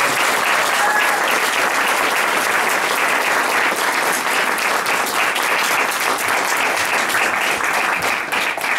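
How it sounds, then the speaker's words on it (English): A literary reading audience applauding prize winners, dense sustained clapping that stays loud and even throughout with no voices on top. "Let's give them a nice round of applause."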